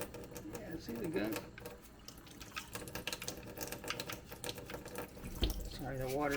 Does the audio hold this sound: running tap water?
yes